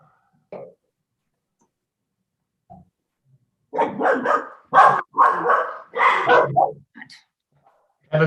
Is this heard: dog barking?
yes